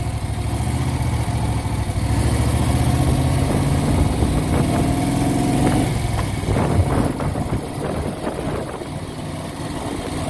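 A 1970 Moto Guzzi Ambassador motorcycle with a 5-speed transmission runs steadily while being ridden, its engine a continuous mid-pitched drone with rising tones as it revs, heard close and alone without speech.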